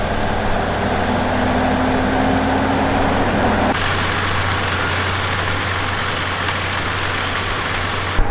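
A concrete pump truck runs steadily up close at a construction site pouring concrete, a constant heavy diesel drone with a low hum throughout, its tone shifting abruptly partway through with no talk.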